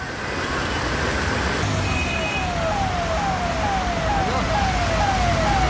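Vehicles pass through floodwater on the waterlogged Sion-Panvel highway, making a loud, unbroken rush of wash and traffic noise, with a run of repeated falling tones like horns or sirens cutting through it.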